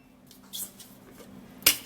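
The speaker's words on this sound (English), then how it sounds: "and then we're going to cut the onion in pieces" A knife cuts half an onion into pieces, giving a few sharp, crisp chops spaced unevenly over a quiet background hum, with the last strokes loudest and closest.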